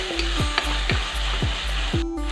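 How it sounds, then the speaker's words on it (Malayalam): Onions, green chillies and salt sizzle in a hot frying pan, with a spoon scraping through them in regular strokes about twice a second, close and loud. "ഇനി നമുക്ക് സവാള, പച്ചമുളക് ഇതും കൂടെ ഇട്ട് കുറച്ച് ഉപ്പും കൂടെ ഇട്ട് ഒന്ന് ഇളക്കി കൊടുക്കാം."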